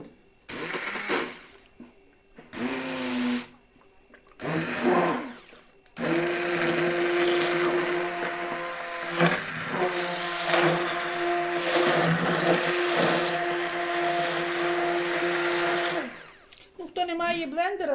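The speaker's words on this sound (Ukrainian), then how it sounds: "І перебиваємо до всього розчинення і молока, і цукру" A blender whirs through milk and sugar, starting in short pulses before settling into a long, loud, steady motor drone that ends after about sixteen seconds, with a person speaking briefly between bursts.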